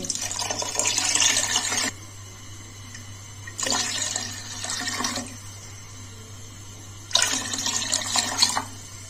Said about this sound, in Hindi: अब हम इसमें मजीद 3 कप पानी शामिल करेंगे